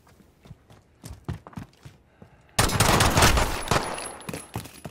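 Gunfire in the Modern Warfare first-person shooter: scattered footsteps and a few light sounds, then a sudden sustained burst of loud automatic fire that tails off into a few more shots.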